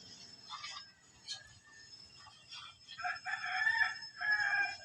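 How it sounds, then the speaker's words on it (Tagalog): A rooster crows several times in the early morning before dawn, with the drawn-out calls growing louder toward the end, and some clucking in between. "Tumitilaok pa ang manok."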